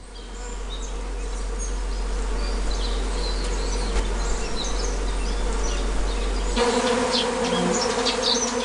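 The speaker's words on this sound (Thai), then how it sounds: "พึ่งฝูงใหญ่กำลังบินมา มันมีหลายพันตัว" A large swarm of thousands of Japanese honeybees flies in the flower-filled Tanzawa mountains, making a dense, steady buzz that stays loud and close for the whole stretch.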